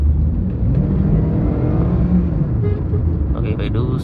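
A cheap used luxury car's engine rumbles low and strong while being driven hard, a steady throaty drone heard from inside the cabin, with a voice talking over it.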